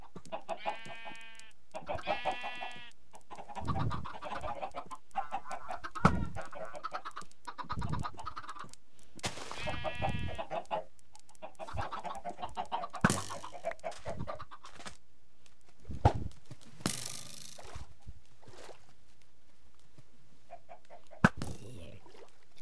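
Chickens in the video game Minecraft cluck in repeated short bursts across the scene, mixed with other game sound effects and scattered clicks, with no talking.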